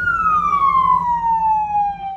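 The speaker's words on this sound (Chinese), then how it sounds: "加拿大多伦多街头一片混乱，警车鸣笛声四起" Police car siren wailing on a city street in Toronto, Canada, its pitch sliding steadily downward over about two seconds, loud and close with low traffic rumble beneath.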